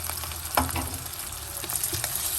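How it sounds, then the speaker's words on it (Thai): Turmeric stir-fried in a pan, a steady sizzle with scattered scraping stirs of a utensil, fairly close and continuous with no talk over it. "ผัดให้หอมเหลืองเลยนะคะ"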